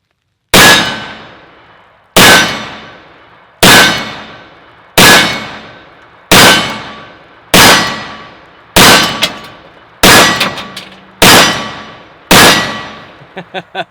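Ten sharp, loud shots ring out from a 10mm Tanfoglio Witness Elite Match pistol, spaced about a second apart, each with a bright metallic clang off steel targets and a short decaying ring.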